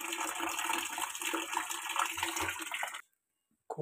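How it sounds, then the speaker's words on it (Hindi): Tap water pours steadily into a cooking pot for about three seconds, a close, rushing splash that cuts off abruptly into silence. "उसके बाद इसमें भरता हूँ पानी।"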